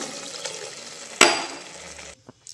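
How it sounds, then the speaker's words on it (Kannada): Water is poured into a cooking pot for mushroom biryani, a brief splashing pour with a clink at the start, fairly quiet, ending in near silence. "ಇವಾಗ ನೀರನ್ನ ಆ್ಯಡ್ ಮಾಡ್ಕೊಂಬಿಡೋಣ. 1 ಲೋಟ ಅಕ್ಕಿಗೆ 2 ಲೋಟ ನೀರು ಹಾಕ್ಕೋಬೇಕು."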